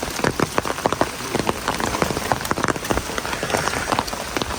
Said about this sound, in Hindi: बहुत ज़्यादा बारिश पड़ने लगी है